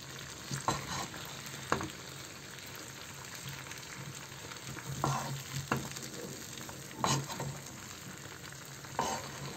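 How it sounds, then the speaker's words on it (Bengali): Olive pickle cooks with spices in a pan, giving a quiet, steady frying hiss near at hand. Occasional spoon scrapes mark the stirring, and no one talks. "ভালোভাবে একটু নাড়া দিয়ে দিচ্ছি"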